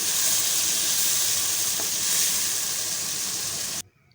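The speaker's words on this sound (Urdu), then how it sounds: "اپنی کڑھائی میں ڈال دیں گے ہم گھی کو اچھی طرح گرم کریں گے اور اس میں ڈال دیں گے پیاز کو براؤن کریں گے" Onions brown in hot ghee in a kadai, giving a close, continuous hissing sizzle that swells slightly midway, then cuts off abruptly near the end, with no talk.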